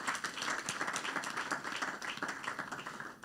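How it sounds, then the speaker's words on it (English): A dense burst of clapping from an audience, steady and fairly close, holding at an even level throughout. "Please a round of applause once again for her."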